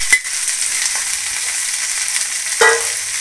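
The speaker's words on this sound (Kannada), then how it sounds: "ಇದೊಂದು ಸ್ವಲ್ಪ ಚೆನ್ನಾಗಿ ಫ್ರೈ ಆಗಬೇಕು ಬೆಂಡೆಕಾಯಿ" About three quarters of a kilo of chopped okra (ladies finger) frying in a pan for a Karnataka-style palya, a loud continuous sizzle with two sharp stirring clanks near the start and end.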